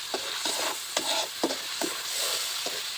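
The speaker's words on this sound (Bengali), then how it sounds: "এভাবে হালকা নেড়ে চেড়ে আমরা মশলাটাকে কষিয়ে নেব" Spice paste of onion, garlic and ginger being stir-fried for a sea fish curry, a steady sizzle broken by regular scraping stirs of a spatula roughly twice a second, close and unaccompanied by speech.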